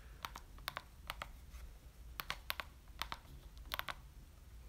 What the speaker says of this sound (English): I'm gonna type something in here just so you guys can kind of see